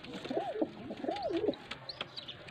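A Faisalabad pigeon cooing close by, two soft rising-and-falling coos in quick succession followed by fainter chirps and small rustles in a quiet space.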